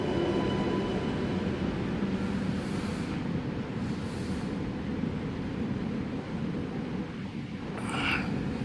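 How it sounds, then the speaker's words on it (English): A Sydney Metro train arrives at a platform bound for Chatswood, a steady loud rumble of rail wheels and motors rolling in close, with a brief hiss near the end as it comes to a stop. "service now arriving on platform number 1, stopping next at Chatswood."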